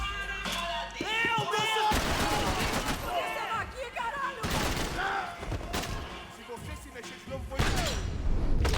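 Gunfire in the Max Payne 3 video game, a dense rapid fusillade of shots with thuds and crashes throughout, loud and close, mixed with shouting voices.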